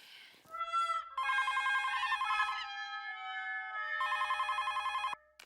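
A telephone rings indoors in a Hindi sitcom household, two long electronic trilling bursts separated by a pause, fairly quiet and alone without talk.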